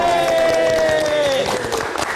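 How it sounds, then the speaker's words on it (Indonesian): Studio audience applauding the guest band Diskoria on a live music talk show, a steady dense wash of clapping and crowd noise with a sustained tone running underneath. "Kita berikan tepuk tangan sekali lagi."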